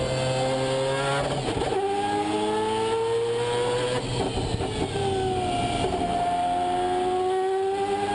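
Mazda 787B race car at Le Mans, heard onboard as its engine revs hard through the gears of a stick-shift gearbox, loud and continuous, pitch climbing and dropping with each shift.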